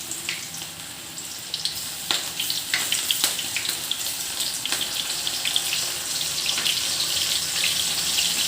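Water being added to mushroom pakodi batter during cooking, a steady watery pour with faint clinks of a utensil against the bowl, heard close and alone without talk.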